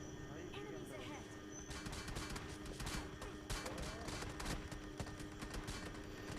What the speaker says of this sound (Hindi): यहाँ रुकते ही मेरे को इतनी तरफ से गोलियाँ पड़ती हैं